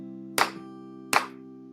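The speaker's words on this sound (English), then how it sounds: "Can I make some clap sounds?" Two crisp hand claps, close and clear, spaced under a second apart over a steady low background tone from a video game room.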